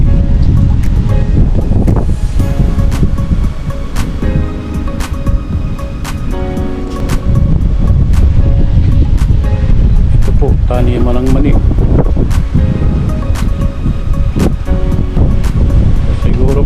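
Strong wind from Typhoon Kristine gusting across a peanut field, a constant roaring rush with buffeting on the microphone, while someone speaks over it.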